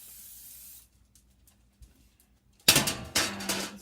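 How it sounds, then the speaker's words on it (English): Vegetable cooking spray is spritzed into a large cooking pan in two sharp hissing bursts, the first longer, the second briefer, following near silence with a few faint clicks. "This is vegetable cooking spray."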